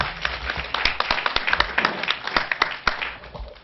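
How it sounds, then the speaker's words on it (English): An audience claps for a book at a women's empowerment event, a short burst of close, uneven hand claps with sharp individual strikes at a steady level. "one more clap for the book"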